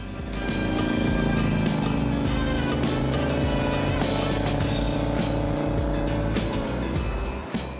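A Morgan Threewheeler's engine drones loud and steady throughout while driving, with a thick low rumble and continuous road and wind noise, close up and with no talk.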